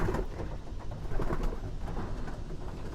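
Pigeons cooing inside a breeding loft, several soft, overlapping throaty coos repeating continuously at close range against a low background rumble.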